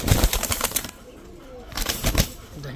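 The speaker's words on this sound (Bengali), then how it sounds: "খুবই ছটফটে কবুতর" Pigeons flap their wings in two loud, close bursts of fluttering, separated by a brief quieter pause.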